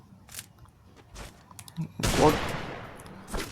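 Gunfire in the Free Fire video game: a few faint shots, then one loud, sharp burst with a long decaying tail, followed by a softer report.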